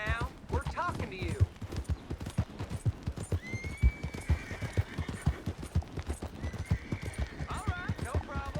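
Horse hooves clip-clop in a video game in a steady, rapid rhythm, with a horse neighing at times and character voices talking over the galloping.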